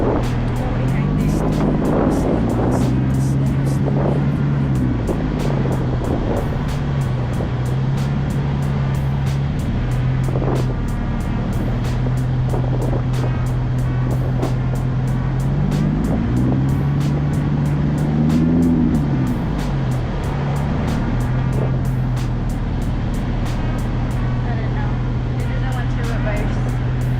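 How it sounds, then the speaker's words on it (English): Loud Ford Mustang race car engine running steadily up close, its drone rising and falling in pitch as it revs, with voices talking over it. "we're about to test drive this very loud car"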